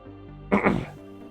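A single short, muffled cough from the video game Surviving Mars bursts out close by over a steady low background hum.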